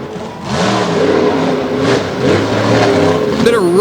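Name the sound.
monster truck revving and smoking its tires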